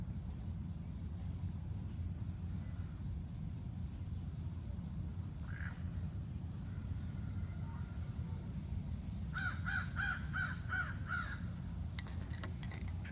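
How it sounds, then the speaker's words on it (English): A small bird calls outdoors in a quiet open-air setting, a short run of bright repeated chirps near the end over steady low background rumble, with a fainter call earlier. "Pretty happy little bird."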